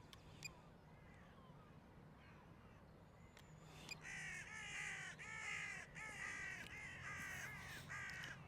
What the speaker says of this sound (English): Crows are looking for worms.